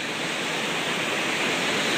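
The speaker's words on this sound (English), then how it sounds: "I just snuck out to this overlook of the waterfall" Waterfall at Judge Magney State Park seen from an overlook on a rainy day, a steady, even rushing wash of falling water with no talk.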